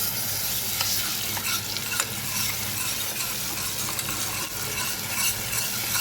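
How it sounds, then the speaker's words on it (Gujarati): Chilies fry in hot oil in a pan, making a loud, continuous crackling sizzle with light clicks of stirring throughout. "થોડું તેલ ગરમ થાય ને પછી અંદર મરચું ઉમેરીએ."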